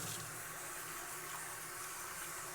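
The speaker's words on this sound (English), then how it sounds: "I'm washing my rice up really gently" Tap water runs steadily into a pot of rice being gently rinsed to remove starch, a continuous broadband splashing rush heard alone and close.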